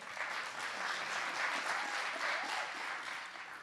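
An audience at a racial equity summit evening event in Richmond claps together, a sustained, even round of applause from many hands, heard from a slight distance for several seconds with no voices over it.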